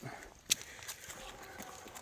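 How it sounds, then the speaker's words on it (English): Horses on a forest hiking trail along the Natchez Trace, Yockanookany section; faint, distant hooves clopping in a loose rhythm with one sharper click, heard over quiet outdoor ambience. "horses."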